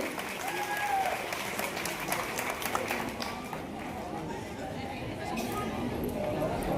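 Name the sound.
audience applause at student award ceremony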